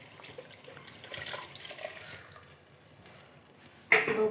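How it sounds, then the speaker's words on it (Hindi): Two glasses of water go into a simmering pot of aloo gosht, a soft running pour and splash, quiet and close, with a louder splash at the end. "अब इसके अंदर मैं शामिल कर दूँगी 2 गिलास पानी।"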